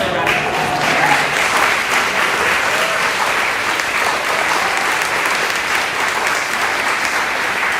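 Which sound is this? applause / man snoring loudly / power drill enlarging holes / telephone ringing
applause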